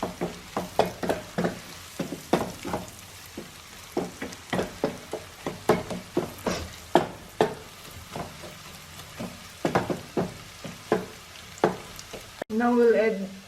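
Garlic sizzles in a pan for chilli garlic mushroom, with repeated sharp clicks and scrapes of stirring over a steady crackle, and a louder burst near the end.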